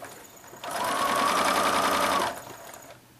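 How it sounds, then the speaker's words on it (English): Sewing machine stitching strips for a miniature rail fence quilt, one short, steady burst of fast needle chatter lasting under two seconds, close and clear in a quiet room. "it's time to sew, and I can just pick them off of the design board and sew them in order"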